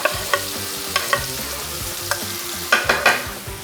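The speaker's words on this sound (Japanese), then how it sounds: "そしたら ニンニク生姜入れちゃおう。" Garlic and ginger stir-fried in a hot pan for a Chinese-style ground chicken and cabbage oyster sauce dish, sizzling loudly and close, with sharp clacks of a utensil stirring at irregular intervals, no talking.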